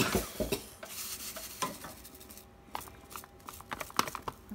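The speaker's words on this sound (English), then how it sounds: "And then just stir it?" Sugar for Christmas fudge is stirred in a pot, a spoon scraping and clinking against the sides in quick irregular strokes, close and fairly soft, with no talking.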